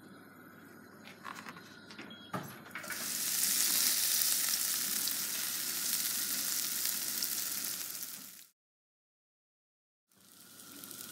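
Bread slices frying in a pan for croutons give a loud, steady sizzle that starts sharply after a few clattering knocks, holds for several seconds, cuts out briefly, then resumes.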